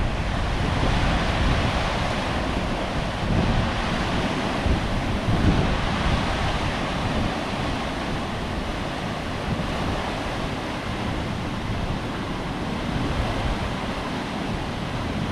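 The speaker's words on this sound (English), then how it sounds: "Takes a lot of water to fill a lock." Water churns and rushes steadily into a river lock at the Ortona Lock and Dam, a broad continuous roar with some wind noise over the microphone, loud and unbroken throughout.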